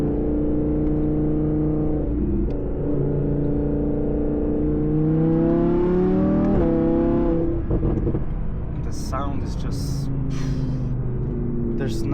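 A Capristo-exhausted Audi R8 V10 in sport mode with valves open holds a loud, steady close-up drone that rises and falls through revs, with sharp crackling pops near the end.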